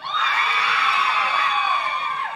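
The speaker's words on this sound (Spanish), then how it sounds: "¡Aplauso para el maquinón!" Lively game-show crowd at a contest in Costa Azul, with loud, sustained high-pitched cheering and shouting that stays close and full throughout and fades slightly at the end.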